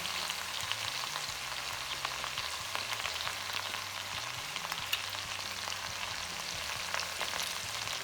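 Meat broth poured into a pan of beans sets off a steady, loud sizzle and bubbling frying hiss that runs continuously from start to end, close up, with no talking.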